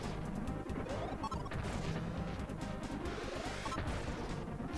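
Explosions and crashing impacts from the video game Battle Clash pile up in dense, loud repeated bursts with chiptune-style game music underneath, continuous throughout with no talk.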